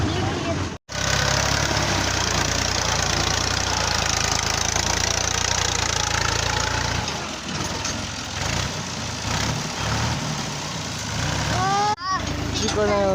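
Tractor engine running steadily in bad, rainy weather on a rough track, a loud continuous low rumble with knocking texture throughout, with a brief cutout near the start and some speech over it.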